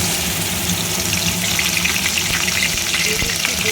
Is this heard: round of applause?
no